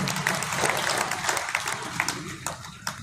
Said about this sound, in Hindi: एक बार वीरांगना सुमित्रा देवी माननीय सरपंच साहब के लिए भी जोरदार तालियों से अभिनंदन कीजिए।